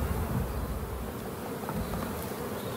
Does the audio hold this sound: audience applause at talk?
no